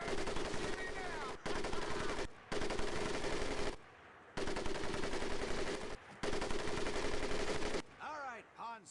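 Machine gun in the video game Medal of Honor Pacific Assault fires in long, loud, rapid bursts separated by short pauses, with chattering reports close up and rattling echoes as the bursts end.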